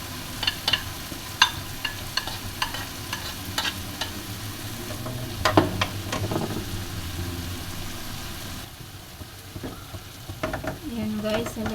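Diced potato, wongbok cabbage stems and carrot sauté in a pan for vegetable lumpia, a steady close sizzle broken by repeated scraping stirs and clinks of the spatula.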